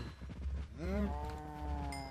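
A cow in the video game Minecraft lets out one long, low moo that slides upward and holds steady, near and clear over faint game background noise.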